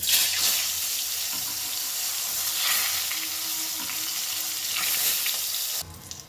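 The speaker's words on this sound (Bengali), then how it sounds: "বাকি যে বেগুনগুলো আছে সেগুলোকেও ভেজে নেব।" Loud, hissing sizzle of eggplant slices frying in oil, a dense crackling wash that holds steady before cutting off abruptly near the end.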